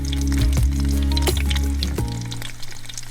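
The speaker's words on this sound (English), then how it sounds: "my sausages are sizzling away nicely in there now" Steady crackling sizzle of sausages frying in a hot pan at a bike campsite, loud and close, with a few soft clinks and scrapes, no talking.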